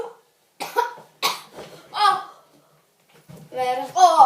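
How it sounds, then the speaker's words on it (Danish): Child coughing after eating hot chili, a few short harsh coughs close to the mic separated by pauses, with brief child speech around them. "Jeg kom til at hoste, og det går bare ondt."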